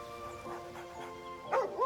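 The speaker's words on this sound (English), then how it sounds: "Puppy." A dog in Baldur's Gate 3 gives a few short yips and barks, the last two louder and closer, over a faint musical background.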